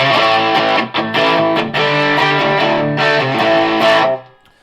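Electric guitar played through a JHS Paul Gilbert distortion pedal with all knobs at noon and reverb added, ringing out sustained, thick overdriven chords in a steady strummed pattern with brief choppy breaks, then decaying into a reverb tail.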